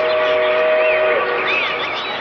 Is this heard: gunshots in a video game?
no